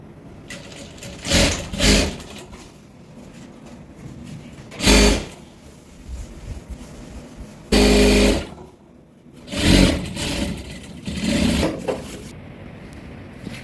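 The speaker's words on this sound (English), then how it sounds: "I'm going to sew it round." A sewing machine stitches round a rope tote bag in several bursts of rapid, rattling running, each lasting a second or so, separated by quiet pauses while the fabric is turned.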